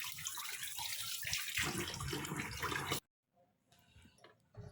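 Whole fish being washed by hand in water: loud, continuous splashing and sloshing for about three seconds, then a sudden stop followed by quiet, faint water sounds and light handling, close up with no talking.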